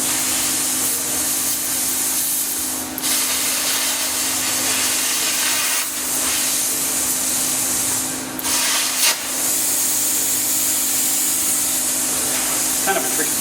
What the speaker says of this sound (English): I'm cutting the weld the pin is attached to on the arm.